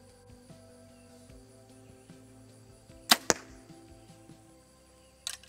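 An Obsession FX7 compound bow fires an arrow, giving one sharp, bright snap and a quick second crack midway, with a faint tap near the end over low, steady background hum.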